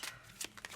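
Tarot cards being shuffled by hand, close and soft, in a few quick riffling bursts with brief pauses between them.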